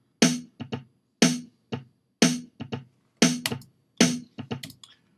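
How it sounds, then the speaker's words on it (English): A simple snare drum beat programmed on a Redrum drum machine plays five sharp, evenly spaced hits, each followed by softer ghost hits. The beat sounds clean, close and isolated, with no voices. "So I want a very simple beat with a snare drum,"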